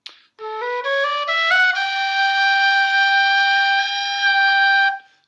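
A Pro A whistle plays a short climbing run, then holds a long, clear C using an alternate fingering that sits slightly flat, loud and close before stopping abruptly.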